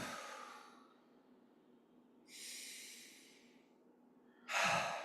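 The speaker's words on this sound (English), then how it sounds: "Just easy, relaxed breathing." A person breathes naturally and easily during a qigong session, with close, airy exhales and inhales coming in a few slow, separate cycles against a quiet background.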